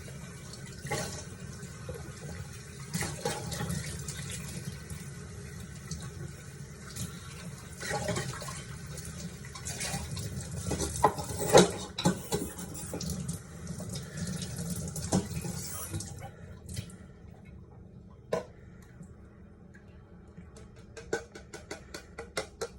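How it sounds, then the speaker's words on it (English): Tap water runs steadily while a blender jar used for mixing facial mask ingredients is rinsed in a sink, splashing at a moderate level, then the flow stops and only faint clinks of handling remain. "Rinse it."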